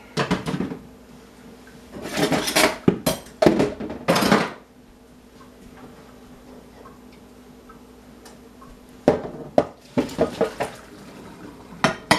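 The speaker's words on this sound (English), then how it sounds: "I need a strainer. I'm just gonna strain this." Food is strained through a metal strainer over a pot while making fries supreme from scratch. Bursts of metallic clatter, scraping and tapping come in two clusters, with a quiet pause between them and no voices.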